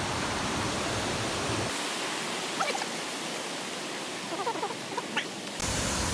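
Steady roaring rush of falling water from the Cascada La Plata waterfall in Ibagué, Tolima, Colombia, broad and constant, with a few faint chirps poking through in the middle.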